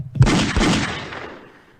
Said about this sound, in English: I'm going to go ahead and give your auntie a couple gunshots.